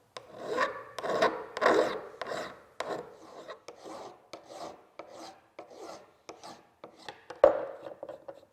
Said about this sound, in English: So now I'll just take a mill file and clean that up.